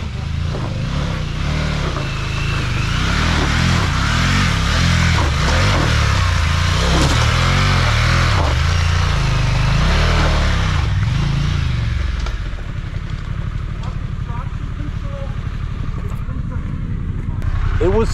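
A heavy, powerful motorcycle chugs along in first gear, its engine loudly pulsing and surging in uneven waves, then settling lower, with people talking over it.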